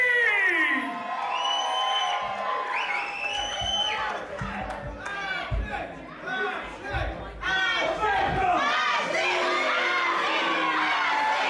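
A crowd at a London wrestling show cheers, shouts and whoops for the wrestler Ashley Reid, a loud sustained roar with high shrieks, while a commentator talks over it.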